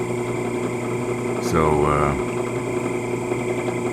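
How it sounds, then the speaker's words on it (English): A drill press runs with its chuck turning, a steady mechanical hum and whirr under a brief spoken word, in a workshop setting while building a model ship. "I'm noticing that the chuck is turning a lot smoother right now, so the belt is warming up"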